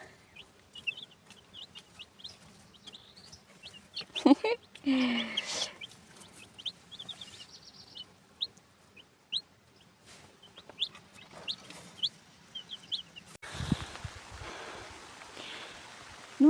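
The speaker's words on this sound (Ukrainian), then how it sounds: "Ось таке моє малесеньке курчатко." High, thin chick peeps repeat in quick bursts throughout, with a brief louder clucking flurry in the middle and a low hum underneath.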